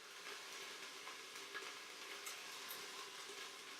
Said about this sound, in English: We'll sear the pork for a few minutes and then we'll add the rest of the ingredients.